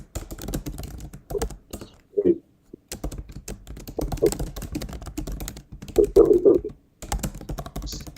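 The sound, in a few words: typing on a computer keyboard into a chat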